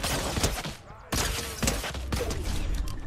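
Shotgun blasts ring out in a Fortnite Chapter 2 Remix match, a few sharp bursts with clattering impacts over about three seconds, loud and close.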